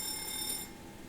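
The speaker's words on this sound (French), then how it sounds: "Bon il faut tester les alarmes et tout." A steady electronic warning tone sounds in the cockpit of a Boeing 727 in the X-Plane flight simulator during an alarm test, holding loud and even, then stepping down to a quieter hum partway through.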